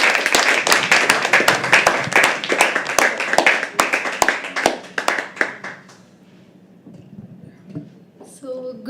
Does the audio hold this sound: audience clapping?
yes